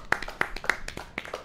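An audience claps in a small, scattered way, a few light, separate hand claps at an uneven pace, with faint voices murmuring in the background.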